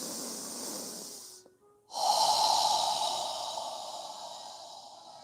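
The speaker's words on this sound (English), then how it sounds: "Inhaling through our nose and exhaling through our mouth." During a guided yoga breathing exercise, a person breathes in through the nose and out through the mouth. There is a long, close, airy inhale, a brief pause, then a strong, hissing exhale that fades slowly.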